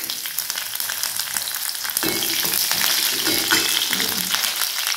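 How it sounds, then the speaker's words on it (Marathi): Chopped green chillies frying in hot oil with garlic for upma, a loud, dense crackling sizzle that grows stronger partway through, close up and with no voices. "आणि त्याच्यामध्ये आपण मिरची ऍड करूया चिरलेली।"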